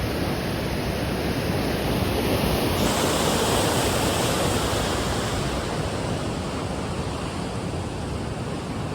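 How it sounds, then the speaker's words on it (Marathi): The fast-flowing Sina river rushes past the riverbank in the evening, a dense, continuous roar of water that stays loud and near throughout. "कसल्या वेगाने पाणी पळतंय"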